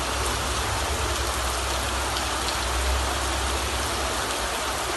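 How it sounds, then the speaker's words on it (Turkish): Heavy rain pours onto a flooded street in Edremit, a dense, steady, even roar of water with no pauses and no voices throughout. "Bu yağmur acaba nasıl gidecek?"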